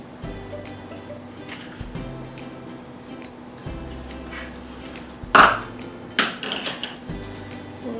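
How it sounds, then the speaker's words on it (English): Cold process soap batter for men's soap mixed and scraped by hand around a bowl, soft repeated scraping with a couple of louder clinks of utensil on the bowl, plus faint bird cooing and background music. "We're going to mix this by hand real quick, just to scrape all the sides down"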